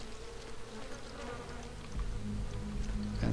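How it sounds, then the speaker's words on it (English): Flies buzz in a mansion in the hills in Vampire the Masquerade Bloodlines. The buzzing is a faint, continuous drone under a quiet ambient hum, swelling slightly toward the end. "And we can also hear the flies buzzing."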